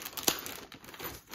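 Plastic bag crinkling while a package is unpacked, a short run of soft rustles with one sharper crackle near the start, close and quiet with no talking.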